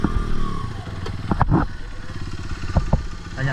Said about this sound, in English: even these little pit bikes have a bit of trouble getting through here as well.